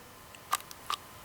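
An HK VP9 striker-fired pistol gives small, sharp mechanical clicks as its trigger bar engages the striker, two faint close-up clicks heard alone in quiet.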